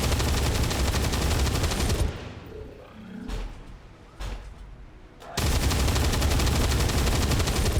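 Rapid automatic gunfire with armor-piercing rounds in XCOM 2 Long War 2 (War of the Chosen), a loud dense continuous burst that cuts out briefly midway and then resumes just as heavy.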